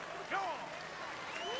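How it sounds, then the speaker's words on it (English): A theater audience in Red Dead Redemption 2 gives a standing ovation. Their applause and cheering stay steady and fairly quiet in the background, with a person talking over the top. "She got a standing ovation."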